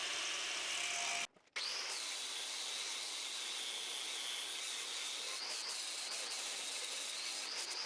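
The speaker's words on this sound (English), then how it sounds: "get that cutoff wheel on" An angle grinder with a cutoff wheel slices through a steel cross member for a John Deere 265 loader build, giving a continuous high-pitched grinding whine that stops briefly near the start, then resumes steadily.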